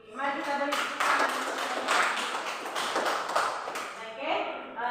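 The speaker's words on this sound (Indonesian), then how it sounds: "Mari kita beri tepuk tangan." Students applaud in a classroom after a group presentation, a brief burst of clapping lasting a few seconds, with a voice speaking just before and after.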